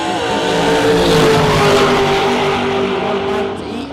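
Race car on a bracket racing drag strip during a time run, a loud sustained engine roar with rising pitch as it accelerates, steady and close for most of the stretch before easing slightly at the end.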